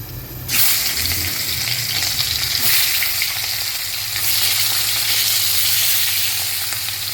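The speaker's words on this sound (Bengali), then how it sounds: "আর এদিকে শুকনো লঙ্কা তেজপাতা দিয়ে দিচ্ছি" Dried red chillies and bay leaves drop into hot oil in a wok, setting off a sudden, loud, continuous sizzle that holds close and steady throughout, with no talking.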